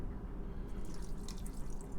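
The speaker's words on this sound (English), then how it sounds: "drain off the water from the rice" Water dripping and trickling as soaked rice for sake is drained, a close, steady patter of drops and light splashing with no talk.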